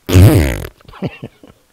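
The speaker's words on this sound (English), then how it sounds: "a little fart machine shoots out of the canvas" A toy fart machine lets out one loud, long, wet raspberry-like blast lasting about half a second, followed by a few quieter short sputters as it trails off.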